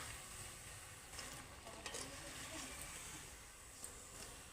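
Thin tomato chips fry in hot oil in a home kitchen, a soft, faint sizzle with occasional light scraping and stirring clicks.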